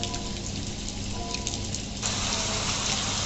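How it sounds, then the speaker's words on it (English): Rain falling in a steady patter of raindrops on a surface, a dense continuous hiss that grows slightly louder partway through, with no talking. "The pitter-patter of the raindrops is beautiful."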